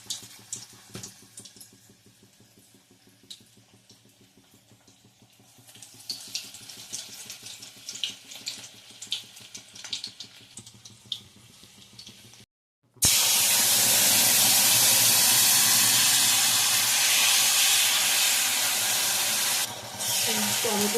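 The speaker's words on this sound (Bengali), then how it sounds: "এটা বলগুলোকে ভেজে নিতে হবে" Cauliflower manchurian balls are deep-fried in oil, giving a loud steady bubbling sizzle and hiss that begins abruptly and fills the second half, after quieter kitchen handling sounds and soft clinks.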